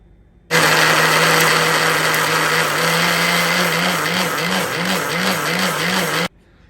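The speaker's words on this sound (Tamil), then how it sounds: "இந்த மாதிரி மிக்சி ஜாரில் நல்லா நைஸாக அரைச்சி எடுத்துக்கோங்க" Mixer grinder jar blending chili powder with salt, fennel and cloves, a loud steady motor whine starting abruptly and running continuously for about six seconds before cutting off, pitch wavering slightly toward the end.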